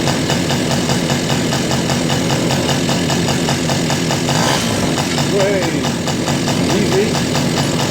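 A Polaris 50cc two-stroke engine runs close up with the choke on after a head gasket install, giving a loud, rapid buzzing rattle that revs and holds steady throughout while someone speaks briefly over it.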